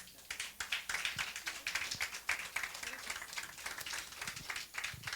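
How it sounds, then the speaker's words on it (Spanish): A crowd claps steadily for several seconds, dense overlapping hand claps at moderate loudness with no voices on top. "vamos a darle un aplauso"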